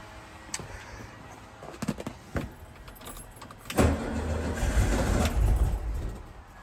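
A fuel-injected 1975 VW Super Beetle with a cool engine: a few clicks and brief cranking bursts, then the engine catches with a loud, rough, uneven run that carries on for a few seconds before cutting out at the end.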